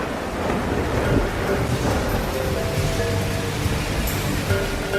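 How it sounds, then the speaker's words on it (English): Dense, continuous roar of heavy rain pouring down, a constant broadband wash with no breaks. "A torrential downpour,"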